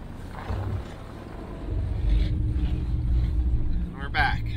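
A Jeep on a snowy off-road trail pushes through a snowbank, its engine rumbling low and surging in uneven bursts close by, with a person speaking over it.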